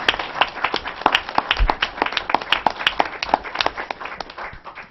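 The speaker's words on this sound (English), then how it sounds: "Let's give them a round of applause." Audience applause at a governor's news conference: a modest crowd clapping in distinct, crisp hand claps that overlap loosely, fairly close and loud at first, then thinning and fading over five seconds.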